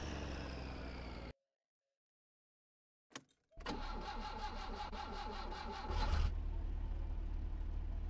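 An old car in the game My Summer Car cranks and fires after a silent gap, its starter catching into a steady loud idle that swells briefly near the end.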